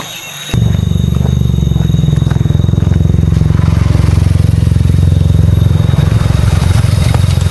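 A motorcycle engine on a road through a Negeri Sembilan forest near the Lata Kijang waterfall starts abruptly and drones steadily and loudly up close, holding a low, even rumble for several seconds.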